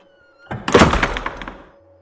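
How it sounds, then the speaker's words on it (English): Doors burst open with a sudden loud thunk and broad impact, followed by about a second of clattering, rattling decay before quiet returns. "the doors burst open"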